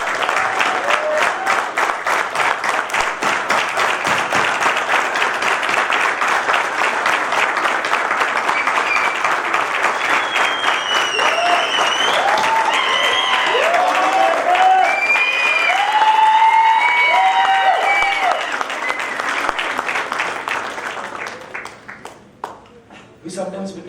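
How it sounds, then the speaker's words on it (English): A convocation audience standing and applauding gives loud, dense, sustained clapping for over twenty seconds, with crowd voices mixed in, before it tapers off at the end. "Can I request all of you to again stand up and give a huge round of applause"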